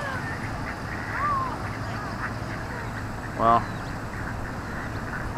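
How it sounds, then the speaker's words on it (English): A duck quacks a few times beside a river during a fishing outing, with water and outdoor background noise throughout and a person speaking briefly. "move because of the duck feeding over here"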